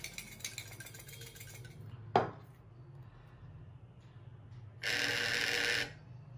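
A rigged xoc dia gambling bowl set gives a sharp tap, then a single buzzing vibration lasting about a second. Faint clinks and light clatter from the bowl and plate come before it in a quiet room.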